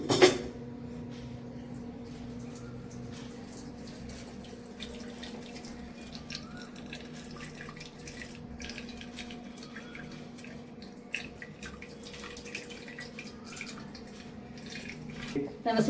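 Faint trickling and dripping as water is strained off cooked sundakkai (turkey berry) greens and dal in a kitchen, low and continuous with a soft hum beneath and a few small knocks.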